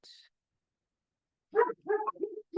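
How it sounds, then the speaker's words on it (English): Dogs barking indoors, a brief high yelp followed by a pause, then a cluster of several short, fairly close barks. "my dogs wanted to participate in the webinar tonight"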